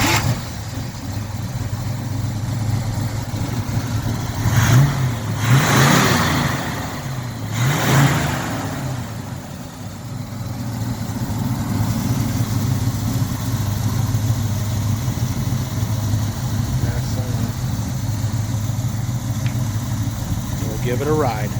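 A 1968 Camaro SS convertible, not yet warmed up, sits at a steady low idle with two brief revs blipped near the start, then settles back into an even rumble.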